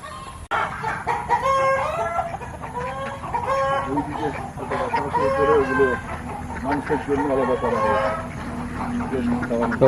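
Chickens cluck steadily close by while a rooster crows at a resort farm in Lodhasuli, with someone talking over the birds throughout.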